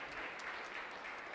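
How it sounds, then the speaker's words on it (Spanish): A church congregation applauds during a live Mass in a parish, a dense, steady patter of clapping that is moderately faint and continuous from start to end. "Un fuerte aplauso."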